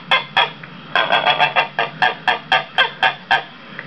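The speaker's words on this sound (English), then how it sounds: "It's a gander." A male goose (gander) at an orchard farm honks in a rapid series of about a dozen loud, close, nasal calls, grouped in short bursts with brief pauses between them.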